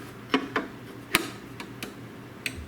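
Small, sharp plastic clicks from the safety switch on a GermGuardian air purifier's plate as it is pressed and fitted, several quiet isolated ticks close by with no talking.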